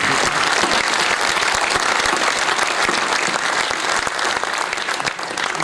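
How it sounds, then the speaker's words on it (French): An audience applauds the four award nominees at a business awards ceremony: dense, steady clapping from a large crowd, loud and close, continuing unbroken throughout with no voices on top. "si on peut juste applaudir les 4 nominés"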